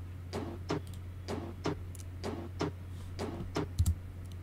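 A third percussion track sample with EQ8 equalization repeats in an even loop of tight ticking hits with small accents over a steady low hum, close and quiet, with no talking.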